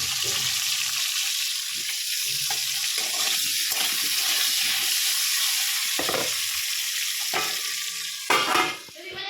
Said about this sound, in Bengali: পটল ভাজা হয়ে গেছে, এবার আলুগুলো দিয়ে দেবো।